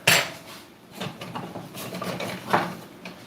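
Rummaging among pots, lids and cutlery for a wooden spoon at a home stove while cooking halushki, with scattered clatters and clinks of metal and wood, close by and without speech.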